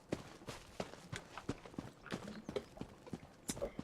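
Horse hooves in Elder Scrolls Online clip-clop in a quick, steady rhythm, clear and close, with no voices over them.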